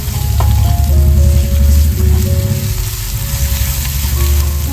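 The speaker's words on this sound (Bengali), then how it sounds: "এরপর আমি সবকটা মশলাকে ভালো করে আবার কষিয়ে নেব" Spices for chingri bhuna sautéing loudly in hot oil in a pan, a steady close sizzle that runs throughout with stirring noises and no voices.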